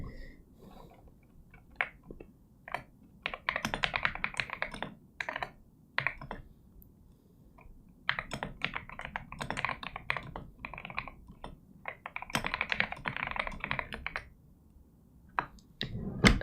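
Typing on a computer keyboard during a live digital painting stream, with quick close-up bursts of key clicks separated by brief pauses and no talking.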